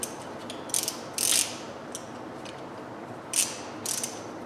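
Ratcheting brake caliper piston compressor tool clicking in short bursts during a front brake pad job on a 2WD Dodge Dakota, a few sharp close ratchet clicks spaced over a quiet background.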